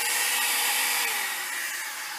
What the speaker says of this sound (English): get my blow dryer together